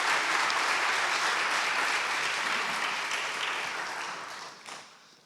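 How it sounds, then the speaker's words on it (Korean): A large audience at a church pastors' seminar claps to welcome visiting guests, steady dense applause that gradually thins and fades out toward the end. "우리 그분들 환영하는 박수 한번 드려주십시오"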